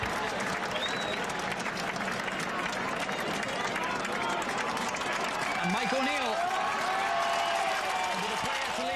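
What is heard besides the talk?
rugby league crowd applauding player leaving the field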